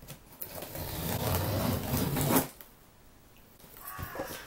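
A very large parcel being cut open with scissors, a close, rough scraping and tearing rasp lasting a couple of seconds, then quieter rustling.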